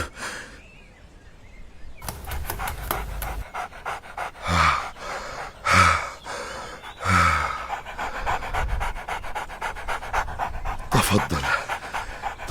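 A thirsty stray dog pants in quick, rhythmic bursts, close by and fairly loud, with a few heavier breathy pulses in the middle and no talking over it.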